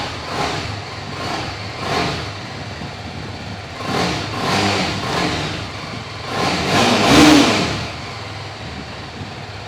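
A 300cc motorcycle engine idles and is blipped several times, each short rising rev swelling loud and close before dropping back, with the strongest burst near the end.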